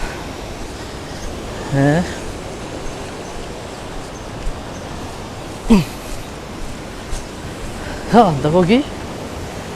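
Sea waves crash against the rocky steps of St. Peter's Pool in Malta as a steady roar, while people's voices break in briefly now and then.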